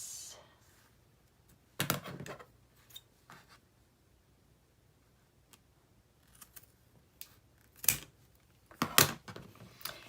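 Scissors snip through paper while a Christmas craft tag is made on a craft table. A few short, crisp cutting bursts are separated by quiet pauses.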